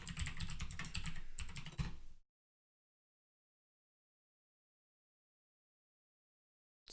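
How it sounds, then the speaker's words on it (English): Dense, rapid clatter of typing a password on a computer keyboard, close and continuous for about two seconds, then sudden silence for the rest. "I'm typing my password in"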